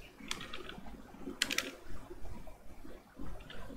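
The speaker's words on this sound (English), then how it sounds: "I'm going to type in a text" Typing on a computer keyboard, a few faint sparse keystroke clicks and short bursts over a quiet room background, no speech.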